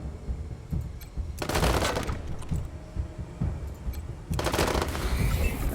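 Gunfire in the video game Wasteland 3: two dense bursts of rapid shots, each about a second long, loud and close, separated by a quieter stretch of ambient game noise.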